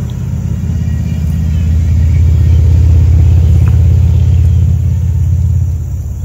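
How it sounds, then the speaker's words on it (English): Road traffic passing along the Blue Ridge Parkway during a picnic, a steady low rumble that swells and holds near mid-clip before easing slightly, with no voices over it. "You hear the cars?"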